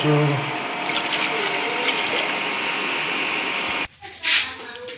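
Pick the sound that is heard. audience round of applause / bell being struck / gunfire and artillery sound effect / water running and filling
water running and filling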